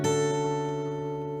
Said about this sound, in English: the 4 major 7 chord is going to sound like this.